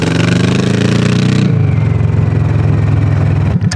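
Honda Shadow 1100 bobber motorcycle with straight drag pipes and no baffles, loud and close throughout: a steady deep exhaust rumble that shifts down in pitch partway through as the bike rides on.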